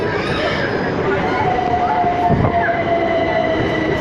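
A train pulls into a station nearby, a steady rolling rumble with a faint squealing tone from the wheels or brakes and a brief louder clunk partway through.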